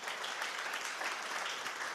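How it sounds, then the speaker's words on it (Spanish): Audience applause fills a hall at an international revival church gathering after a talk on the Holy Spirit. It is a steady, dense wash of many hands clapping at even volume for two seconds, with no voices over it. "para quien pedimos un fuerte voto de aplauso"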